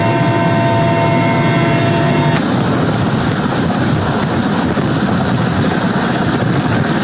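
A helicopter flies over the northern Krasnoyarsk region carrying police, a loud, continuous close rotor and engine roar with a steady throb that holds for the whole span.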